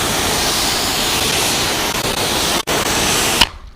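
Water spray rinses a Porsche GT3 RS, a loud, steady broadband hiss close by, dipping briefly once before cutting off at the end.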